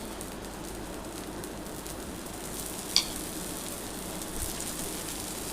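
Uttapam frying on a hot pan until browned on both sides, a steady soft sizzle throughout with one brief sharp tick midway, no talking.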